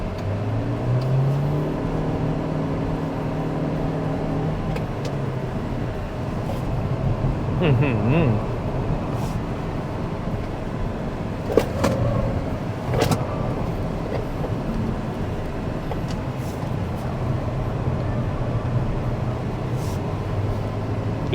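A Mitsubishi XFORCE HEV drives laps on a race track, its steady engine and road noise running throughout, with someone talking over it.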